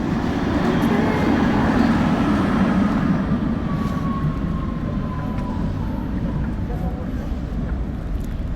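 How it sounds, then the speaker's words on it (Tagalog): A train passing through a snowy Prague street, a broad steady rumble and roar that stays close and loud, with a faint high whine rising through the middle. "tren na naman, oh."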